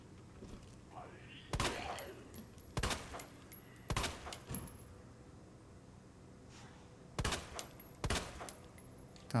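Several sharp, loud explosion blasts in Resident Evil 2 go off at irregular intervals, each a sudden boom with a quick decay, over a low background hum.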